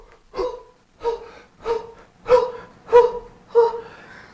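A person does a deep breathing exercise during a Cellercise rebounding session, with six strong, evenly spaced breaths that sound like forceful gasps and carry no talk over them.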